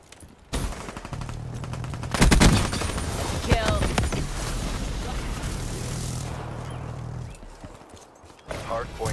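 Rapid submachine gun fire rattles in a Call of Duty multiplayer hardpoint match, coming in dense bursts layered with game effects and radio-style voice callouts.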